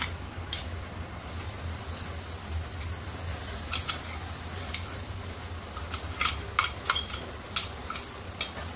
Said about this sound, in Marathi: मसाला चांगला परतून घेऊया। कच्चा मसाला आहे म्हणून चांगला भाजून घेऊया याच्यामध्ये।